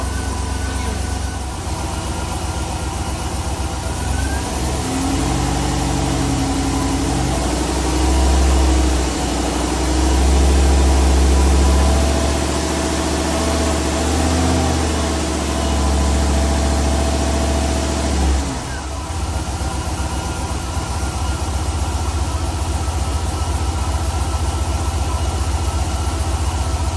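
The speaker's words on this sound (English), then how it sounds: "47 degrees out here on E85. Fired right up, no problem." A turbocharged LS-swapped Crown Victoria running on E85 idles steadily at about 47 degrees, a loud, close, low rumble with a couple of swells in engine speed before settling.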